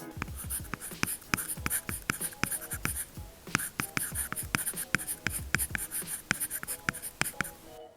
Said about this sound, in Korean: 마지막으로 종이 질감 필름에 적어 보겠습니다.